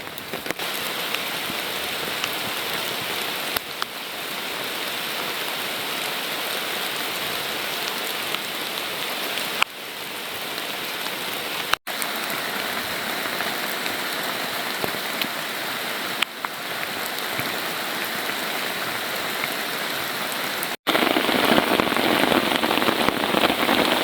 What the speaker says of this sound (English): The heavier rain has set in.